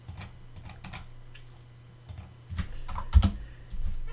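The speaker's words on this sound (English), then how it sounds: "in the command prompt type this" A command being typed on a computer keyboard for a Raspberry Pi 5 setup, with soft, close key clicks coming in uneven bursts and a few firmer taps near the end over a low hum.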